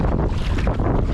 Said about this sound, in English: And there's a cold wind blowing down the loch.